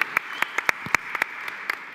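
Scattered claps from a small audience at a Bitcoin conference panel in Prague, a few separate hand claps spread sparsely across two seconds and heard faintly rather than as full applause.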